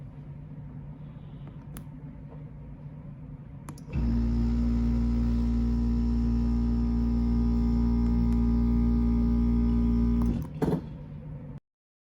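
A grocery delivery box's refrigeration system switches on with a steady loud hum and drone, runs for several seconds, then cuts off with a clunk, leaving quiet background.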